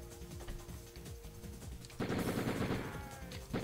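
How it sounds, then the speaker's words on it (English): Rapid Beretta pistol gunfire in the Die Hard Trilogy video game, a loud burst of dense shots kicking in about halfway through over a busy game soundtrack. "a Beretta does not actually have that rate of fire"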